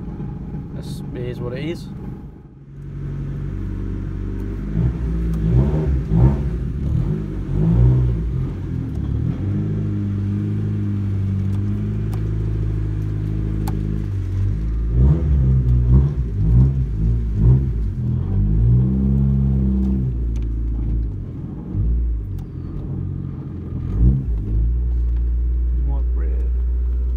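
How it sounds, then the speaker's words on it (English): A Honda Civic EJ9 engine idles and revs with a low rumbling exhaust, while a loose exhaust mount rattles in bursts; someone talks over the running car throughout. "Ignore the rattling, that's just the exhaust mount"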